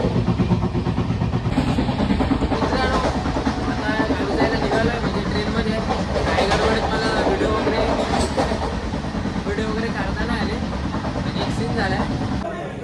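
A passenger train near Panvel on a Konkan trip produces a loud, continuous rumble and rattle of the carriages that runs steadily throughout without pause.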